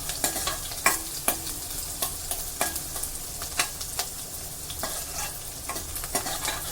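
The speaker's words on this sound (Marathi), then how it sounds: "कांदा चांगला गोल्डन ब्राऊन होईसपर्यंत फ्राय करायचा आहे गॅस हाय फ्लेमवरच ठेवलेला आहे" Onion frying in a pan on a high gas flame for a spicy Agri-style crab curry, a constant hiss of sizzling oil broken by sharp clacks of a spatula stirring against the pan.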